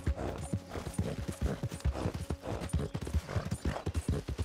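Horse hooves clip-clop steadily in Red Dead Redemption 2, a rhythmic run of sharp hoof strikes, clear and fairly close, with light game ambience behind.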